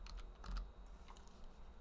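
Quick, light keystrokes on a computer keyboard as a zip code is typed, a short run of close, faint clicks in a quiet room.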